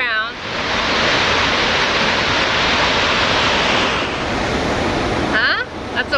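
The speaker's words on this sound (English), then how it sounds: "That's a waterfall" Dynjandi waterfall in the Westfjords, Iceland roars in a continuous broad wash of rushing water, loud and close, with brief voices breaking in near the end.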